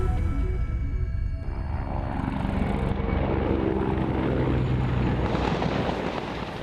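Helicopters roar with a steady, dense rotor and engine drone near Donetsk airport during a battle, loud and continuous throughout.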